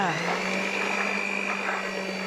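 An electric kitchen mixer whirs steadily while beating mango cake batter, a constant close motor drone with a faint high whine, running alone from start to finish.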